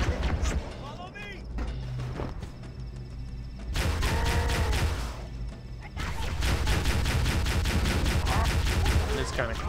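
Gunfire in the Halo: The Master Chief Collection video game, bursts of rapid shots and crashing impacts in clusters, loud and close, with voices talking over the action.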